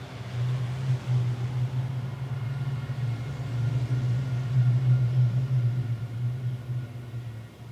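Racing trucks climb an uphill section at the Hungaroring circuit, heard as a low, steady engine drone with a rumbling swell that builds slightly toward the middle, fairly faint and distant.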